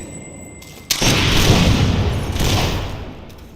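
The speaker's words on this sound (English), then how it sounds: "Marvelous shooting." Gunshots from a firearm at a shooting session: a sharp blast at about one second followed by a loud, sustained rumbling boom and echo that slowly fades, with no talk.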